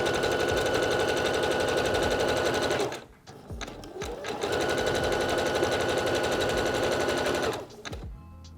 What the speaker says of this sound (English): We've got a nice small zigzag stitch set up on the machine, and we're just going to start with a little back stitch.